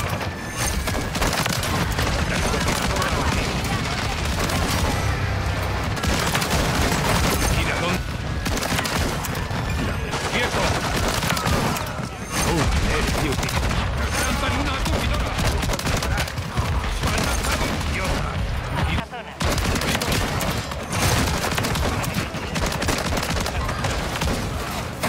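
Shotgun gunfire in Call of Duty Modern Warfare 3, dense repeated loud blasts and booms filling a long stretch of intense in-game combat, with voices talking over the shooting.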